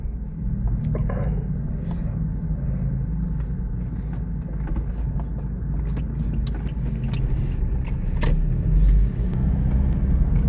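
A Toyota Innova with a 1GD diesel engine climbs an uphill road, its low steady drone and rumble holding throughout with slight swells, heard from inside the cabin with no one talking.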